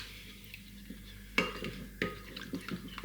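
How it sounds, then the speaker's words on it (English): A spoon clinks and scrapes against a bowl while stirring a Hawaiian chicken marinade, a few quiet distinct taps and soft stirring sounds close by. "find a spoon, give it a good mix"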